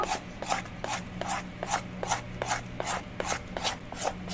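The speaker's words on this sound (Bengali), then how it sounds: "তালের শাঁস দিয়ে খুব ভালো করে মাখিয়ে নেব" Semolina cake batter being worked by hand with palm fruit pulp, giving a steady run of soft, rhythmic rubbing and squelching strokes about twice a second, close and moderately quiet over a low background hum.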